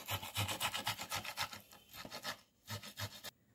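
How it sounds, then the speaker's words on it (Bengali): Peeled sweet potato scraped against a grater in quick, even rasping strokes, close and fairly soft, with a brief pause before a few final strokes. "এবার আমি গ্রেট করে নেব"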